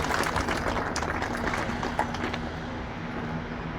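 A large audience applauds at a Srimad Bhagavat katha gathering in Amravati, giving dense continuous clapping that fades slightly toward the end.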